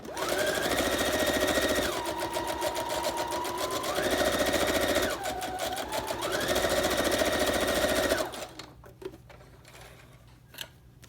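A sewing machine runs in fast, steady bursts of stitching paper collage pockets, with pitch rising and falling as speed changes, then stops, leaving quiet handling sounds.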